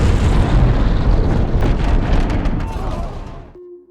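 An explosion in The Batman (2022) erupts as a loud, broad roaring blast that rumbles and slowly decays over a few seconds before cutting off abruptly.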